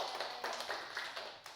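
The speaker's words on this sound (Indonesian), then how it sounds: "tepuk tangan coba buat di sini sendiri" Classroom of second-grade pupils clapping their hands together in a quick, steady patter of light claps, moderately faint and without talk over it.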